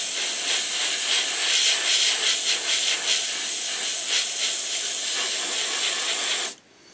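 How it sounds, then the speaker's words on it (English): An airbrush sprays paint in a steady, loud hiss at low air pressure while camouflage is laid on a model, the spray running continuously and faintly pulsing before cutting off abruptly near the end. "my airbrush is just on the border, you probably hear it, of not being able to do it"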